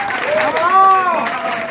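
Audience applause in a jazz club during a big blues band concert, a steady dense clapping wash with crowd noise and sustained instrument tones beneath.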